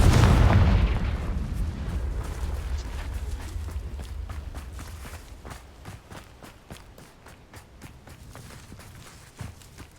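A Confringo fire spell explodes in the Hogwarts Legacy video game: a loud boom at the start that decays over several seconds, followed by a steady run of sharp clicks and taps, with no talking.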